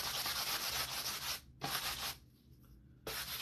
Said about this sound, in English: this sanding block to really...